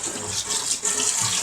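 Water runs steadily from a tap into a kitchen sink that had been clogged, a continuous loud hissing splash with no talk.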